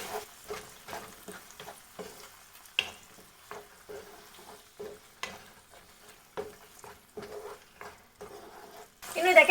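Tomato, soy and red chilli sauces are stirred together in a pan for chilli chicken. A spatula scrapes and clacks in a regular rhythm of close strokes over a faint sizzle, with louder clatter at the very end.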